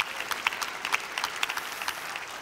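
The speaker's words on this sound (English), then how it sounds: "if you're gonna clap, clap." A church congregation claps in a rhythmic, moderately paced pattern, steady beats repeating evenly at a modest volume in a large room.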